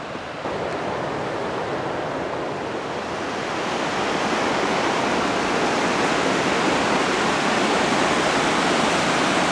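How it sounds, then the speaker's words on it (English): A big rapid on the Salmon River roars below in a continuous loud broadband rush of churning whitewater that swells slightly halfway through, with no voices. "We can hear a big rapid down below"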